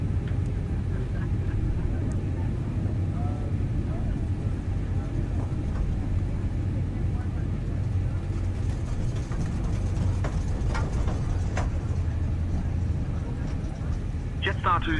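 Simulated Pratt & Whitney engines on a Jetstar Airbus A321neo in Microsoft Flight Simulator 2020 hum steadily before takeoff for Sydney to Auckland, a low continuous drone heard under talk.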